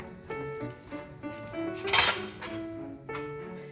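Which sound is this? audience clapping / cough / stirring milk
stirring milk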